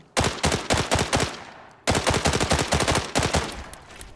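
Rapid automatic rifle fire in the shooter game Arena Breakout, fired by a fully modded TS rifle: two long bursts of loud, close shots with a brief pause between them and no voices.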